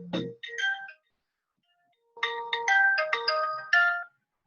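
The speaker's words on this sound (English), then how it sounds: "Excuse me, that's my phone, sorry." A mobile phone ringtone goes off during a class: a short melodic chime, then after a pause a longer, louder run of bright repeating tones that stops abruptly, with no talking over it.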